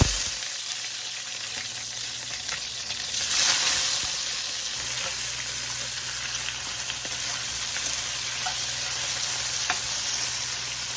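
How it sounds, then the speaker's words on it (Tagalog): Food fries in a pan with a continuous, fairly loud sizzle and crackle that swells slightly partway through, alongside faint spattering pops, with no talking. "Fry po natin ng konti para po mas masarap."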